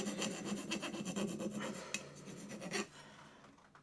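A slight burr is worked off the side of a hand plane blade, giving a steady close rasping rub in repeated strokes for nearly three seconds before it fades to quiet.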